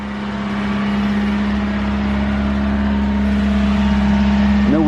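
A 1987 Honda CRX HF with a five-speed runs at a steady low-RPM hum, close and continuous, with no knocks or irregular noises and only a slight rise in loudness toward the end.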